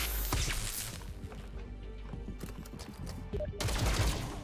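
Rapid bursts of video-game gunfire in XCOM: Chimera Squad, a dense, busy volley of shots rattling continuously through the mix, swelling louder toward the end.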